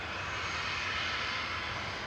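Passenger jet engines at Manchester Airport roar as a steady, loud, broadband rumble and hiss that holds constant for the whole stretch, with no voices over it.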